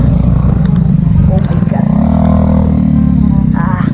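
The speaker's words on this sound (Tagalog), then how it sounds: "Okay, medyo traffic, may tumigil pang motor." Motorcycle engine idling and rumbling in congested road traffic, heard close from a bicycle, with a rising rev near the middle; a voice exclaims briefly over it.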